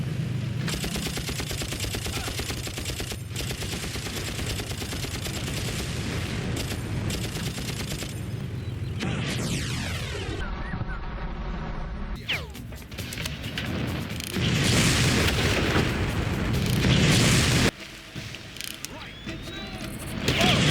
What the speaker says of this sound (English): a mercenary from across the realm sniped the boat with a rocket launcher